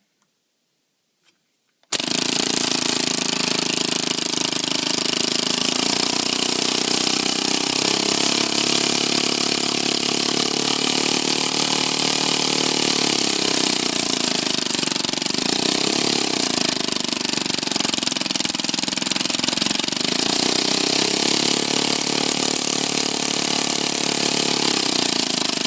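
A small two-stroke engine converted to run on compressed air starts abruptly after a brief silence, then runs continuously with a steady buzzing drone whose pitch wavers slightly, close and loud, with no talk.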